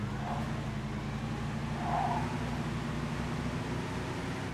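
Car cruising in the Mafia 2 driving game, a steady low engine drone with road rumble, constant and fairly loud with no talking.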